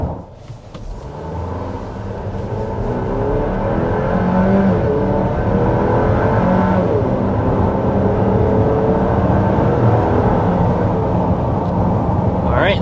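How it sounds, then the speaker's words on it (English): A 2025 Buick Enclave ST accelerating hard uphill to about 60 mph, engine note rising from a low rumble into a loud, sustained drone with climbing tones heard from inside the cabin. "we'll go ahead and start with a hard acceleration"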